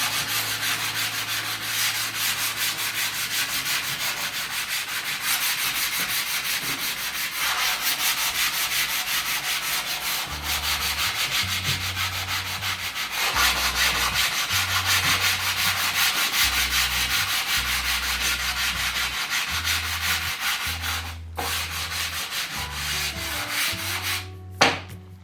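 Wood is sanded by hand with sandpaper taped to a block of plastic trim during a pantry shelf build, giving a long, steady raspy rubbing with rhythmic back-and-forth strokes, close and continuous, ending with a sharp knock.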